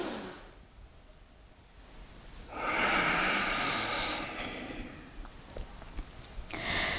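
A person breathes in deeply during a slow water-themed yoga flow, producing a long, soft, airy inhale that lasts about two seconds. Quieter breaths come before it and after it.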